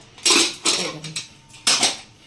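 Metal clattering as a pressure cooker of boiled dal is opened after five whistles: a few sharp, close clanks of lid and pot in quick succession, with short gaps between.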